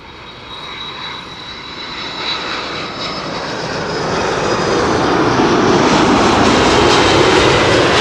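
An Airbus A330-300 jet comes in to land at Schiphol, a loud, close engine roar swelling steadily over several seconds with a whining tone on top, with no talk.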